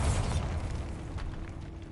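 A Bombarda spell explosion in Hogwarts Legacy: a heavy blast at the start, then a rumbling crumble that fades into debris and low mechanical noise, with no one talking.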